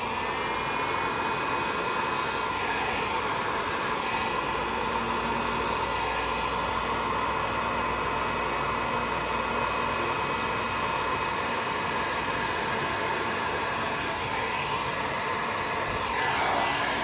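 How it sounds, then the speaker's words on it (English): A heat gun blows steadily over resin gel tints on foil, a continuous loud airy roar that holds unbroken throughout with no voices. "Heat gun plugged in here."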